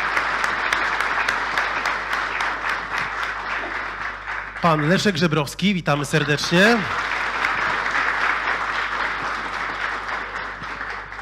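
Applause from an audience welcoming guests onto a stage at a Polish public meeting, steady clapping throughout with a voice announcing over it and a brief burst of melodic music in the middle.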